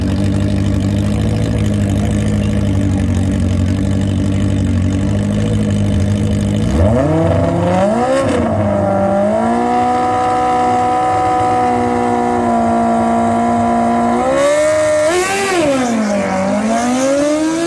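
The D-Max Little Ranger drag truck at a test-and-tune night at Mooresville Dragway idles with a loud lumpy rumble near the microphone, then revs sharply several times, the engine note swooping up and settling back down.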